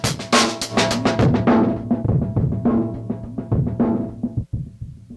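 A steady, rhythmic synth pattern of punchy, resonant notes with a buzzy tone from a Dope4 A102 diode filter, looping continuously and fairly loud.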